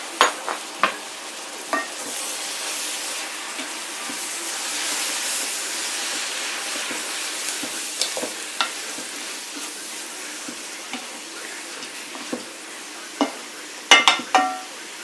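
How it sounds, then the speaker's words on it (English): Brussels sprouts and bacon sizzling and simmering in a pan with wine and brown sugar, giving a steady close hiss broken by scattered clicks and spoon scrapes of stirring. "We'll let this simmer for a bit."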